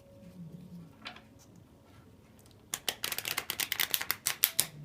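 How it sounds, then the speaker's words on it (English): A small Lenormand card deck being riffle-shuffled up close: a quick run of crisp, fluttering card snaps lasting about two seconds, preceded by a faint tap. "Oops, well, I didn't shuffle that one very well."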